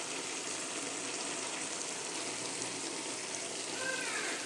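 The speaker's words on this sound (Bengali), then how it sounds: "মশলাগুলো ভালোভাবে কষিয়ে সবজিগুলো দিয়ে দিলাম" Spiced vegetables sauté in a pan over village-style home cooking, giving a steady, even sizzle and hiss throughout with no talk.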